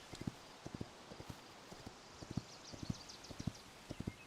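Horses in the Hytale video game clip-clop in short rhythmic bursts of hoof strikes, fairly close and steady, with a faint whinny-like tone in the background and no talking.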